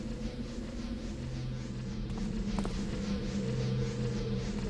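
Arcing lights in Thief: The Dark Project give off a steady electrical buzz with a faint wavering hum, constant and fairly quiet throughout.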